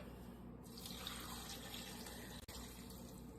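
Vegetable stock pours steadily into a soup pot of cut potatoes and leeks, a continuous close liquid splash and gurgle running for about three seconds with a brief dip near the end.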